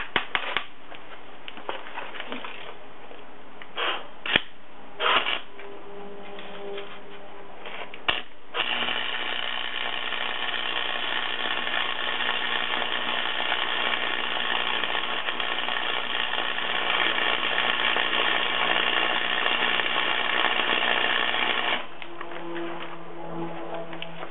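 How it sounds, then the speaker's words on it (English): MIG welding on beveled steel plates gives a steady crackling buzz lasting about fourteen seconds, preceded by a few short bursts and clanks. "I'm gonna weld them using the same method"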